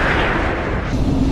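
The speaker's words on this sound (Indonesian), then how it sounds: "Pada tembakan pertama, Pete dan juga Phoenix berhasil menghancurkan tutup dari bunker laboratorium" A loud, sustained explosive roar with a deep rumble, like a missile blast on a film soundtrack, filling the whole stretch without pause.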